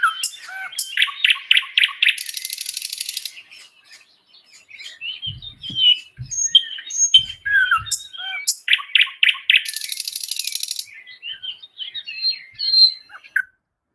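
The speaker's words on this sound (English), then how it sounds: "And this is some birdsong." Recorded birdsong plays clearly: rapid trilling phrases and repeated chirps alternate with high buzzy notes, close and lively, with a few low thumps midway and no voices.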